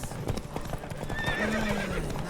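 Horses gallop with rapid clip-clop hoofbeats while one neighs and whinnies partway through, close and steady throughout, with faint voices underneath.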